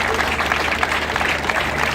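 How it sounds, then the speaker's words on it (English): Applause at an official reception for a Director-General, a dense continuous clapping of a crowd filling the room, steady and fairly loud throughout the short stretch. "That applause is not deafening enough"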